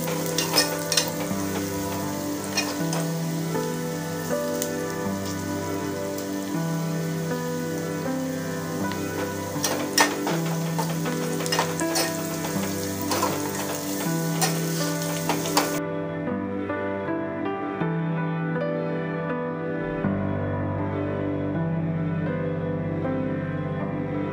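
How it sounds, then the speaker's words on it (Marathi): Chopped onion and curry leaves fry in a pan with a continuous crackling sizzle, dense with small popping spatters, close and fairly loud, with no talking. "कढीपत्ता घालून हा कांदा सोनेरी रंगाचा होईपर्यंत परतून घेऊया"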